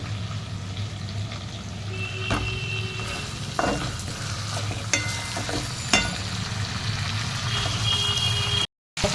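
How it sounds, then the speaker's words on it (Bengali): Boiled potatoes sautéed in a pan for aloo chop, a steady sizzling fry with occasional scraping stirs and a few sharp clinks, interrupted briefly by a moment of silence near the end. "এবার সিদ্ধ করে রাখা আলুগুলো দিয়ে ভালো করে কষিয়ে নামিয়ে নিলেই হয়ে যাবে আলু চপ"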